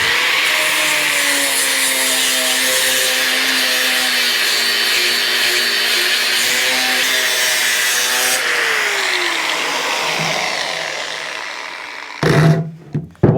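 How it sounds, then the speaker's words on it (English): Angle grinder grinding old brazing off a motorcycle fuel tank, a loud steady whining drone with shifting pitch, ending abruptly before a couple of short clattering knocks. "try and grind evenly so we don't end up going like that"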